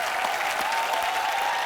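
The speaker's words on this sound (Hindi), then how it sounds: "एक बार अर्शद भाई के लिए जोरदार तालियां।" Studio audience on a Hindi comedy talk show breaks into loud, sustained applause, a dense wash of clapping that continues steadily throughout without pause.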